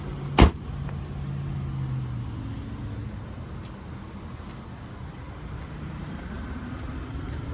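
The door of a 2023 Chevrolet Silverado 1500 pickup with a 2.7-liter turbo four is shut gently with a single sharp thud, followed by a steady low hum of the idling truck.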